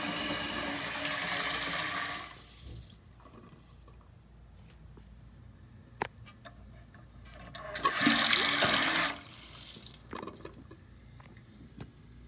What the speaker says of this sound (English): Actually sounds like it's leaking again, so there might be more junk that came through.